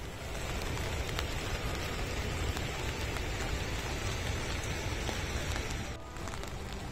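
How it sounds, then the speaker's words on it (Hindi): Waterfall dropping from high up in the Pangi valley, a dense, steady roar of rushing water that fills the whole stretch without pause, with no talking. "ये झरना काफ़ी ऊपर से गिर रहा है"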